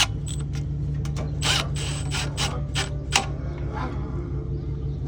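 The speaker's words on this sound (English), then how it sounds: "Now we just gotta tighten these nuts real quick" A ratchet tightens nuts on a small generator's cover, giving short bursts of clicking over a steady low hum, close and moderately loud.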